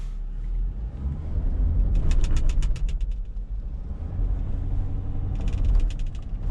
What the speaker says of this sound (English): A wheel hop there trying to get out of that gravel.